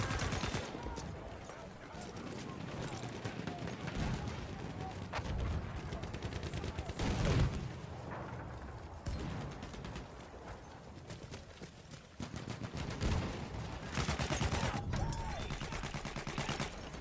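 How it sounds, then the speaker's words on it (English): Battlefield 1 battle at Passchendaele with sustained machine gun fire rattling through dense, continuous gunfire and distant explosions, with shouted voices breaking in now and then. "Machine gun!"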